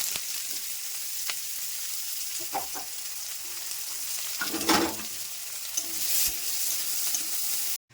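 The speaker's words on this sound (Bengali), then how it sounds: "এবার বেরেস্তাটা করব" Chopped onions fry in hot oil for beresta, giving a constant bright sizzle broken by a few scraping stirs and clinks of a spatula against the pan, close up with no voices.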